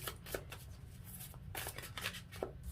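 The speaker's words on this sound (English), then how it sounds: "I'm gonna actually shuffle more for your last card" Tarot cards being shuffled by hand, a series of crisp riffling and flicking bursts repeated through the moment, close and moderately loud with no talking.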